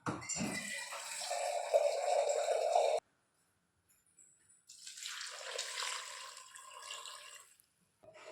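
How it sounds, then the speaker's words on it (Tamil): Water runs from a tap in two bursts, a steady splashing stream that stops briefly, then starts again, close and alone without talking. "தண்ணி பிடிச்சி வச்சுக்கலாம்"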